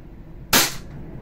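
A WE 1911A silver airsoft pistol fires a single sharp shot during an FPS chrono test, a loud crack with a brief decay over a quiet background.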